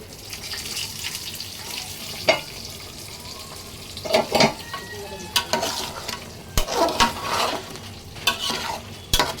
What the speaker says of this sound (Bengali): প্রায় কষানো হয়ে গেছে